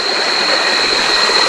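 River water flowing in a steady, broadband rushing wash, loud and close, constant throughout with no voices over it.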